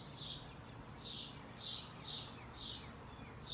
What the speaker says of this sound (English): why are there birds chirping so loudly here?